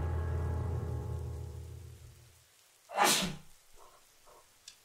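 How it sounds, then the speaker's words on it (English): A low droning hum fades out, followed by a single sharp, breathy sneeze, then a few faint small sounds. "That scared me so bad I had to sneeze."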